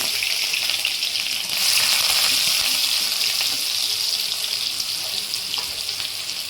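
Onions frying in oil in a kadai, a loud, dense, continuous hiss and crackle that swells around the middle and then holds steady.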